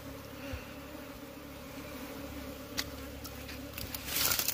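Honey bee drones buzzing around a wild hive in mountain forest, a steady low insect drone throughout with a few brief handling knocks and rustles near the end.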